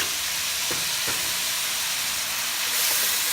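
Minced garlic and onion frying in a pan for pork kare kare, a loud steady sizzle and hiss with a couple of soft stirring knocks, the sizzle swelling near the end, no talking.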